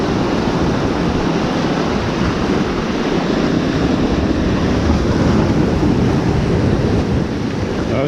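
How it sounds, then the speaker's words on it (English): Big sea waves break steadily on a shoreline while fishing for bass, a loud, continuous roar of surf mixed with wind buffeting the microphone, filling the whole stretch with no voices. "There's another big wave coming."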